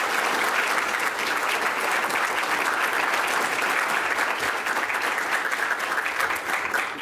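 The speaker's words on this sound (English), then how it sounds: "please join me in one last round of applause for all our graduating" Audience applause at a 2019 history department diploma ceremony for graduating students, a steady dense roar of clapping from a large crowd lasting throughout.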